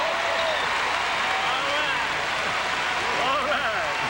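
A large arena crowd at a 1996 Olympic women's gymnastics team competition applauds and cheers in a sustained, roaring wash of clapping and voices, with a commentator talking over it.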